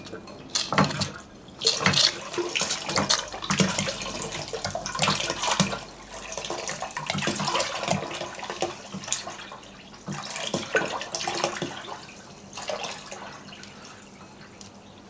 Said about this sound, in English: It's all been filled up with water and it does pump fine.